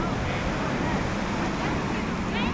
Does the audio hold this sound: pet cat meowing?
no